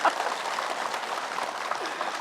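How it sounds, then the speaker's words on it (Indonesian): Steady studio audience applause fills the room at an Islamic TV talk show, a dense wash of many hands clapping at even loudness throughout, with no talk over it. "Tepuk tangan untuk semuanya."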